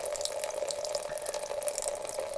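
Water runs steadily from a tap in a village house during a cold snap, a constant close hiss and gush with a weak flow and no talking.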